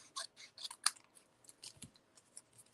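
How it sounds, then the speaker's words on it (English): Scissors snip through a paper punch to cut it in half for a gift card holder, giving a few quiet, crisp cuts spaced through a short, faint stretch with no talk. "all we need to do is just cut one right in half"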